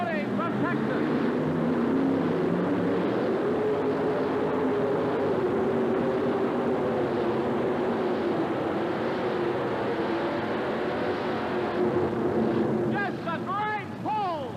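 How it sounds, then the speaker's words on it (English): A modified dragster pulling tractor powered by three Hemi engines roars at a 1988 truck and tractor pull in Birmingham, a loud sustained engine howl lasting the whole stretch and shifting pitch near the end. "he's got 3 Hemi engines out there"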